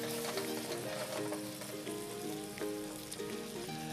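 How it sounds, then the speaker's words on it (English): Carrots tossed in a sizzling rum glaze in a hot pan give a steady, close frying crackle and hiss with soft stirring scrapes, no voices. "I'm just gonna toss the carrots in this glaze"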